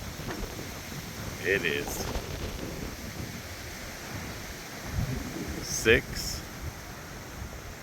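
Gusty wind roars and buffets the microphone outdoors in the aftermath of Hurricane Helene, rising in a few stronger surges, with a person speaking briefly over it.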